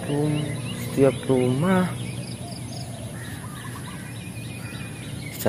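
A flock of birds calls in a town street, with honking, goose-like cries in a short burst near the start, then quieter chirps and calls over a background hum, and a voice talking faintly.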